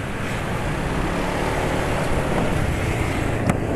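A steady engine hum with low rumbling noise after an oil change to Fastron Platinum 10W60, continuous and fairly loud, with a faint click near the end.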